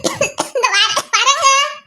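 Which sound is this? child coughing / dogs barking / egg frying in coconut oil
child coughing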